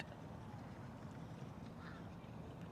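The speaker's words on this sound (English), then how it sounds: "You know how I know that's a mallard?" Mallard duck quacking beside a park pond, repeated calls close by over a steady outdoor background with no talk.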